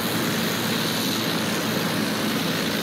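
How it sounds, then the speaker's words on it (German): An enemy bomber from Battlefield 1 drones steadily overhead, a dense, even engine roar that fills the whole stretch without breaks or voices. "Da kommt ein Bomber! Feindlicher Bomber! Da oben!"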